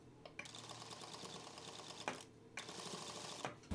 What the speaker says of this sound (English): I'm stitching one edge of the neck tape only to the seam here.